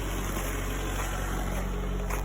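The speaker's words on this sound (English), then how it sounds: "Yeah, that's a 2005 Honda Civic." A 2005 Honda Civic idles steadily after a cold start in extreme cold, its engine holding an even, continuous hum at close range with no talk over it.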